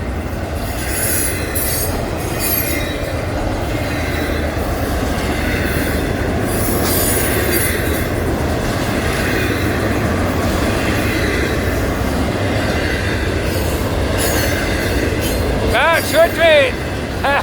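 An Amtrak Auto Train rolls past in Palatka, Florida, a steady loud rumble of railcars and wheels with brief squeals of wheels on rail near the end, people talking faintly in the background.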